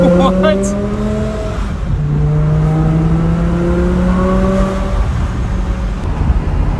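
A supercharged V10 in a BMW M5 E60 revs hard, its rising and falling engine tones sweeping up through the gears, loud and close, with people talking over it.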